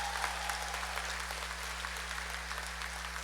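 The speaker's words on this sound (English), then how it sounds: "Let's give him a really big round of applause." Steady applause from a large audience at a university convocation ceremony, dense continuous clapping throughout over a faint electrical hum.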